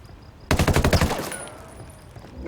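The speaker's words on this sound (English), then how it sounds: "That does sound like it's coming from above me. There's the minigun position up there." Minigun firing in the video game Ghost Recon Wildlands, a sudden loud rapid burst of gunfire lasting about half a second, then trailing off into echoing reverberation.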